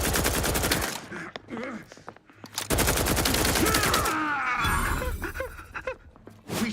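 A goop gun in The Outer Worlds 2 fires in two long rapid-fire bursts, loud and close, broken by a quieter gap with grunts and other combat sounds, then a final short burst at the end.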